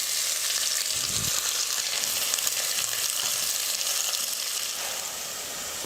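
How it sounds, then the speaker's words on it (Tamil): Sliced large onions sautéing in oil with cinnamon and cloves for a goat-head mutton curry, a loud, steady close-up sizzle with a brief stir partway through. "வெங்காயம் வந்து இந்த மாதிரி நல்லா கலராக வரணும், அந்தளவுக்கு நல்லா வதங்கணும்"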